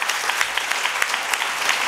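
Sustained audience applause at a Margazhi Mahotsav award function held by Bharat Kalachar, a steady dense clapping from a large crowd with no talk over it.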